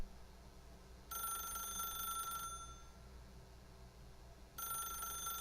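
Telephone ringing in the video game The Stanley Parable: two bursts of a bright electronic ring separated by a few seconds of silence, clear and moderately loud with no talking.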